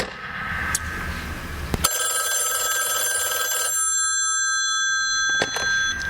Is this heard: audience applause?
no